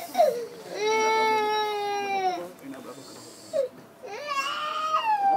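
A baby cries loudly during a religious lecture in a moshav synagogue setting, with two long wailing bursts separated by a short pause, close and prominent over a quiet room.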